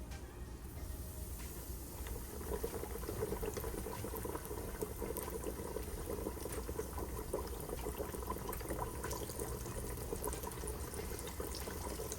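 Mustard-coated pork chops, six to a batch, bubble and fry in oil with a continuous rushing, crackling sizzle that stays steady and moderately quiet throughout.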